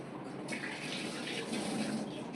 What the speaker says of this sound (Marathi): मी मस्त आता प्रॉन्स धुवून घेणार आहे.